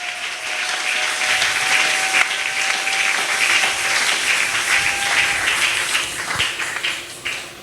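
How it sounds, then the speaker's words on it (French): A church congregation applauds steadily for several seconds, the dense clapping loud and sustained before tapering slightly near the end, with no talking over it. "Acclamez-le encore une fois."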